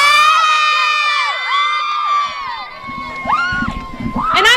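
Isleta high school cheerleaders and a crowd at a homecoming football game scream and cheer loudly and shrilly, with overlapping high-pitched shouts that carry on without a break.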